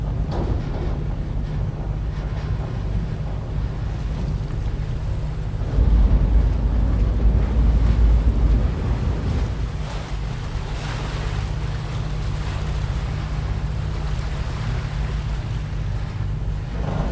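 A Sydney ferry on the F6 route toward Circular Quay runs steadily, its low engine drone mixed with rushing water, waves and wind buffeting the microphone, with a louder surge of rumble midway through.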